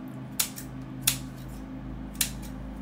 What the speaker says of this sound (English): You could start to trim these a little bit,